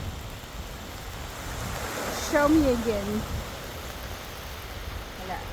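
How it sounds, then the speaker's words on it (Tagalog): Heavy rain falling in an outdoor park, a steady broadband hiss that fills the whole clip at moderate level, with people talking and laughing over it. "Grabe ng ulan. It's raining hard."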